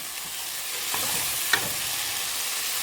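Onions and bright green celery sauté in a pan for an Irish beef stew, giving a steady, even sizzle with a couple of faint stirring touches.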